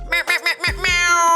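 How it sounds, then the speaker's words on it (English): A short cat meow, close and fairly loud, right after a brief burst of laughter-like vocal sounds. "That was a cat."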